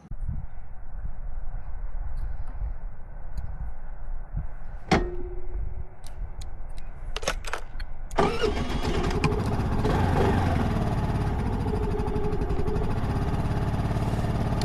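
A GPX Moto FSE140 semi-automatic motorcycle starts up and pulls away, its small engine idling quietly before a few sharp clicks, then revving into a steady, loud mid-pitched drone as it is ridden.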